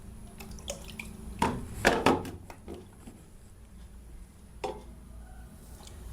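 Whey drips from fresh paneer pressed under a heavy weight, a few sparse drops and a small cluster of trickling splashes, close but soft against quiet background noise, with no talk.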